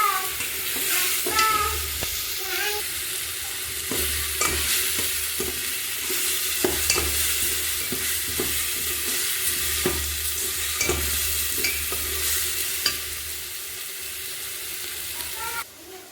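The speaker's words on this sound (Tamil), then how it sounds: "அடி பிடிக்காத அளவுக்கு கிளறணுங்க" Garlic paste masala frying in a pan and being stirred continuously, a steady close sizzle broken by regular scraping clicks of the spoon against the pan, with no talking.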